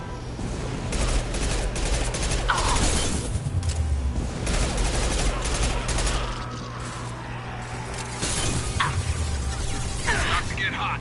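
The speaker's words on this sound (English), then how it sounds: "Firing concussive shot." Rapid gunfire from the Mass Effect 2 video game, with dense overlapping shots and a heavy concussive blast amid ongoing combat noise, plus a character's voice speaking briefly over the fighting.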